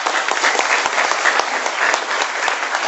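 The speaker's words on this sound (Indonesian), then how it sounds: "Oke, beri aplaus dong buat Anda." An event audience in Jakarta bursts into steady, loud applause, dense clapping filling the whole stretch with a few sharper individual claps standing out, and no voices on top.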